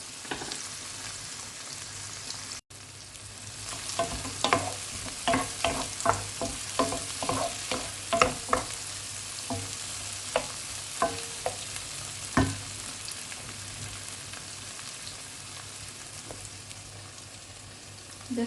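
Pork sautéing in a pan with tomato for a fumed pork and mushroom dish, a steady sizzle under a run of sharp spatula scrapes and clicks that thin out, leaving the sizzle alone toward the end.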